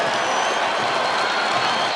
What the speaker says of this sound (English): Boy, you don't think this crowd is up now?